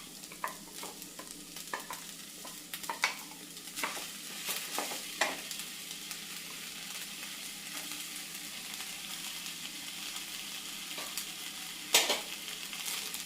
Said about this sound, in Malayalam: ഒരു മിനിറ്റ് ഒന്ന് ഇളക്കി കൊടുക്കാം